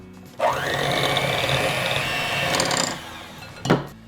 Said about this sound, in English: we want to go ahead and blend these with a hand mixer